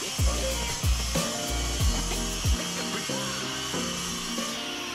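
Power saw cutting a wooden shelf board in a woodworking workshop, with four quick, loud cuts in a row, each cut dropping in pitch as the blade bites, followed by the motor winding down.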